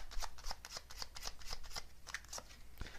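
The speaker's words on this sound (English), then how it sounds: "I'll get one more of these cards." Tarot cards are shuffled and drawn from a deck, giving a run of quick, close papery flicks and riffles in a steady rhythm with no voices.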